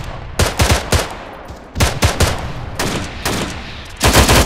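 Bursts of machine gun fire in the military shooter Arma 3, several loud, close rapid volleys separated by short pauses, with heavy low-end punch and no talk over them.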